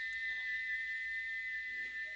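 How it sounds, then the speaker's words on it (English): A steam engine's whistle sounds as one steady, shrill, sustained tone held throughout, fairly loud and continuous, against a faint background hiss. "he wouldn't stop whistling until two fitters climbed up and knocked his whistle valve in place"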